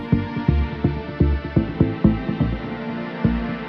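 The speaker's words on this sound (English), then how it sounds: "and our strings sound like this" An electronic dance track plays loudly, with synth pluck chords struck in a regular pulse and layered strings spread across octaves sustaining beneath them, with no voices.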